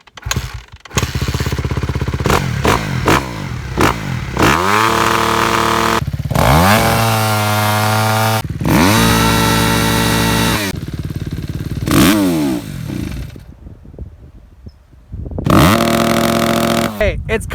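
Kawasaki KX250F dirt bike engine revved hard in repeated bursts, loud and close, rising and falling pitch with brief idle gaps between blips and a long quiet pause before a final rev.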